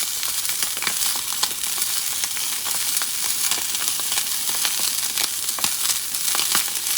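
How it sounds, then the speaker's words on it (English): Wild duck sizzles fat side down in a hot pan, giving a steady, close, crackling fry with frequent small pops and spits throughout and no talking. "you want to cook the duck with the fat facing down because you want that grease to develop"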